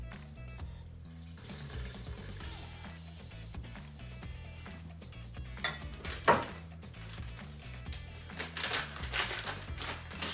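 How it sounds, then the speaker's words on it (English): A spoon scrapes and clinks against the inside of a Ninja Foodi pot while butter melts, irregular light metallic stirring with a couple of sharper knocks, fairly quiet, no talking. "Stir that up, get that butter melted."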